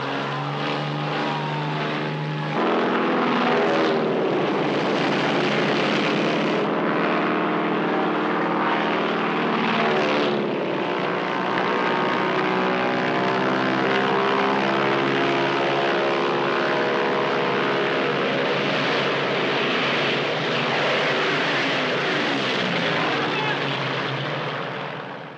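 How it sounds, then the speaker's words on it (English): Japanese WWII bombers and torpedo planes take off for the Pearl Harbor attack, propeller engines droning loud and continuous for about twenty-five seconds with a rising, wavering pitch, and a voice speaking partly over the noise. "The first of 400 Japanese bombers and torpedo planes take to"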